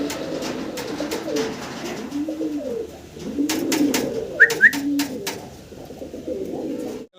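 Pigeons coo repeatedly in soft, rolling phrases, with several birds overlapping nearby in a pigeon-keeping setting, joined by a couple of brief sharp chirps partway through.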